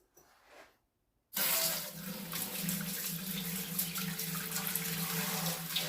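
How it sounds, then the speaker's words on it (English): Strike water for an all-grain Erdinger-style weissbier brew pours from a tap into a boil kettle, a steady loud rushing gush that starts abruptly after a short quiet trickle and continues without pause. "Put my strike water in the boil kettle"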